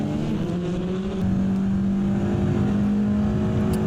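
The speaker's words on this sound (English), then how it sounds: "Here's a Proton Competition Ford Mustang GT3." A Proton Competition Ford Mustang GT3 race car drives at Monza during a GT race, its engine a steady loud drone that rises in pitch as it accelerates, heard without talking.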